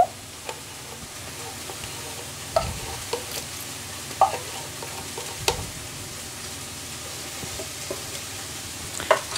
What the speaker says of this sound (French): avec une main, je mélange, mit einer Hand rühre ich